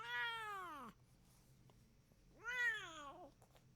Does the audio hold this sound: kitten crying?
yes